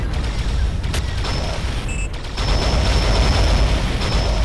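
A submarine's weapon in Aquanox fires in a dense, loud burst of repeated shots over a constant hum of engine noise, with a brief high electronic tone partway through and no talk.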